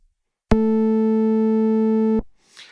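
A steady sine tone from the IceWorks Nambu synth plugin with amplitude modulation at maximum, holding loud and even for about two seconds before cutting off, followed by a faint rustle.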